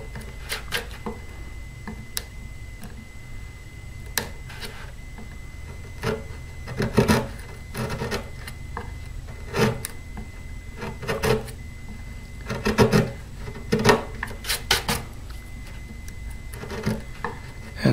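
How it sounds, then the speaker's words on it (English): Veneer being peeled and scraped from a Washburn acoustic guitar during repair, a series of short dry rasping and cracking bursts at irregular intervals, close and moderately loud, with no voices. "So I'm just going to start peeling veneer here."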